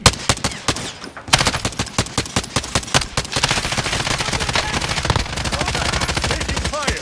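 Rapid automatic gunfire in Call of Duty: Warzone, dense bursts of loud shots with a brief pause early on, then continuous sustained firing.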